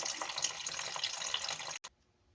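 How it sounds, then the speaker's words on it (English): Coolant from a 1996-2000 Honda Civic drains into a pan beneath the car as a steady, close splashing stream that stops abruptly near the end, leaving near silence. "I have a pan set underneath the vehicle. And you can hear it draining"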